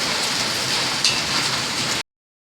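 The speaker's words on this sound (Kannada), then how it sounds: "ಆದರೂ ಇಷ್ಟು ಕೆಟ್ಟ ಮಳೆ ಆಗಾಕತ್ತೈತಿ" Heavy unseasonal March rain pours down steadily, a dense, loud hiss with no talk, ending abruptly after about two seconds.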